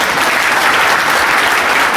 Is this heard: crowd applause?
yes